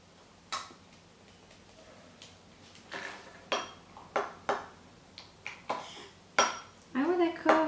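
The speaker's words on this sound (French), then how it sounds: "on va ajouter le borax dans le bol et on va mélanger à l'aide de la petite cuillère" A small spoon clinks and scrapes against a bowl while borax is mixed in for homemade slime, a series of sharp light taps and scrapes that grow busier toward the end, with soft talk in between.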